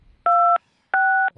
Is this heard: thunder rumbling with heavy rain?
no